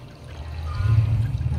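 Hot water from a coffee maker is poured into a cake mix, making a brief, close, gurgling pour that swells midway.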